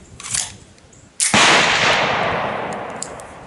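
A Beretta 92X pistol fires one sharp, loud shot of 147 grain Federal ammunition on an outdoor range. The crack is close and is followed by a long decaying echo, with a faint earlier click or noise before it.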